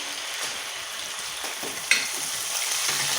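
Ginger and garlic sautéing in a pan, a steady soft sizzle with faint stirring scrapes and one brief clink near the middle, close and alone without talk.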